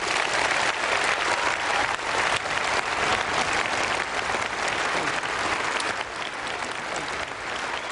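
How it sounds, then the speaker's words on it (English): Sustained standing ovation at the 2011 Conservative Party conference after David Cameron's address, a dense, steady wall of clapping from a large crowd that holds loud and even throughout with no talk over it. "David Cameron finishes his address to the Conservative Party conference of 2011, gets the immediate, almost statutory standing ovation"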